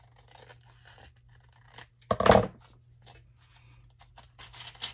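Scissors make one short, crisp snip through a paper envelope, with quiet handling rustles before and after in an otherwise quiet room.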